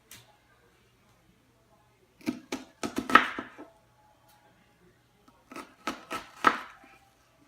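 Onion sliced with a knife on a cutting board in a home kitchen, two quick bursts of crisp cuts separated by quiet pauses.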